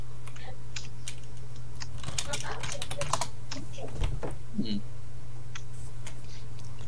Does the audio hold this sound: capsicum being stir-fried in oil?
no